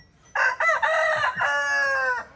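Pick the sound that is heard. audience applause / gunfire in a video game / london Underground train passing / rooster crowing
rooster crowing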